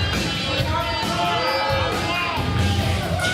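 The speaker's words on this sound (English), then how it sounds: "some excited members of the audience giving Pipes an earful" Excited audience members at a TCW wrestling event in Dartmouth, Nova Scotia heckle and shout at wrestler Wesley Pipes, a steady babble of crowd voices with raised yells rising over the arena hubbub.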